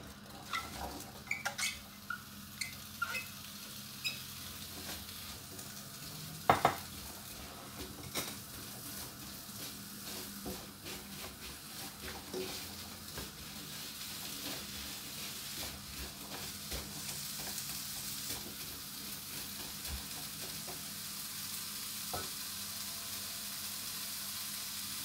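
Apples cooking in a pan for a homemade apple pie, giving a quiet, steady sizzle with a few clinks and scrapes of stirring near the start.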